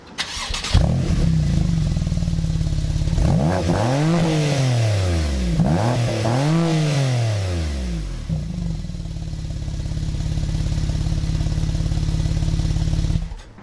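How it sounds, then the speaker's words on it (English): A 2015 Porsche 911 Turbo of the 991 generation starts up and settles into a steady idle, then is blipped through two sweeping revs that climb and fall before returning to a smooth, close idle. "Now it's time to listen to the exhaust note."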